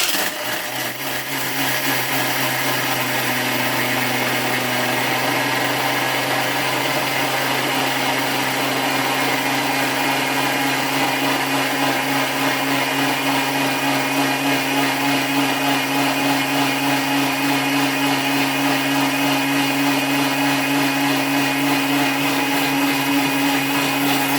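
A Thermomix TM6 blending at top speed 10 roars, a loud, steady high-pitched whir that holds constant for over twenty seconds without any voices.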